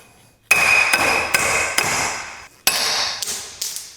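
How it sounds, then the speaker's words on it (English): A hammer knocks a pilot bearing out of a flywheel: sharp metallic strikes, roughly eight of them at uneven intervals with short ringing decays, close and loud with nobody talking. "next, I will knock out the pilot bearing. I'm going to use a hammer."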